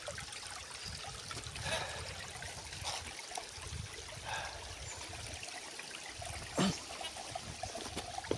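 A small stream in a video game trickles and burbles steadily at low volume, a continuous soft wash of water with a faint brief splash near the end.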